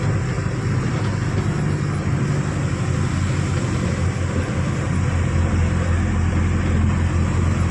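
A line of cars and other vehicles queued on a road on the route from Chiplun to Koyna, heard as a steady, continuous rumble of engines and road noise with no talking.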